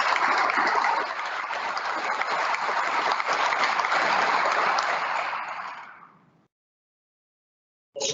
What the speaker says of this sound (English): So I'd like to give them all another round of applause.